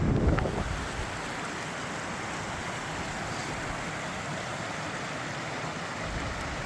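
Wind blows hard across open moorland on a hike, a steady broadband roar buffeting the microphone throughout.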